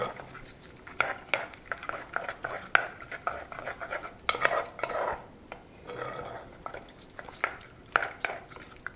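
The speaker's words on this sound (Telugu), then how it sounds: "ఇప్పుడు అన్ని కలిసేలాగా కలుపుకోవాలి" Ugadi pachadi ingredients mixed together in a bowl, repeated quiet stirring scrapes and light clinks of a spoon against the bowl in an irregular rhythm.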